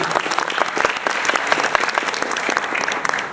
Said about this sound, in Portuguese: os aplausos agora.